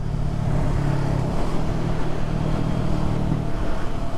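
Kawasaki Ninja 650 out on a test ride, its engine humming steadily with a low throbbing note and road and wind noise, moderately loud and continuous, no one speaking.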